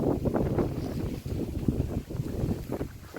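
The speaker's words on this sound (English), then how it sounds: "It is a really windy day" Strong, gusty wind sweeps across an outdoor paulownia tree plantation, a loud continuous rush that swells and dips in repeated surges, with no voices.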